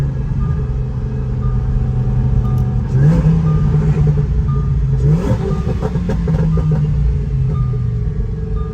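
A twin-turbo Lamborghini engine rumbles loud and close, with two rising rev swells as it gears down, heard from inside the car.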